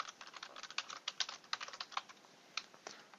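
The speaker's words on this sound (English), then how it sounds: "Then you'll need to type in your" An email address is typed on a Windows 10 computer keyboard, giving quick, uneven runs of soft close-up keystrokes with short pauses between bursts.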